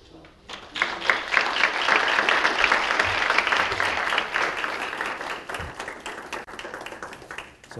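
Audience applause welcomes Dr. Miller to a lecture on philosophy and the university, a dense wash of many hands clapping for about seven seconds and slowly thinning toward the end.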